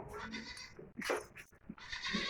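A goat bleats several times nearby, loud and wavering bleats with short pauses between them, amid rustling farmyard noise.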